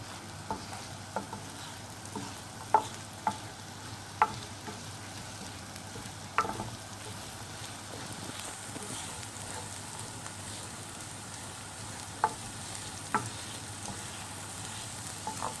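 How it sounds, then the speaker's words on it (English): Onions half-fry in a non-stick pan with a soft, quiet, steady sizzle. Sharp clicks from stirring come every few seconds. No voices. "Put our onions in. So here we're not gonna fry them fully, so we're just gonna do a little half fry."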